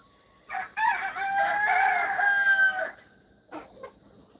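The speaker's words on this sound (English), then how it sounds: "But they're even trying to crow." Young chickens attempt to crow, one sustained, wavering crow that lasts a couple of seconds and is followed by a couple of short clucks, close and clear with no talk.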